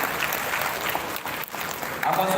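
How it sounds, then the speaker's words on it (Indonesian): Continuous applause from an audience at a school graduation ceremony in Palembang, a dense even clatter of clapping hands filling the room for the whole stretch. "Tepuk tangan."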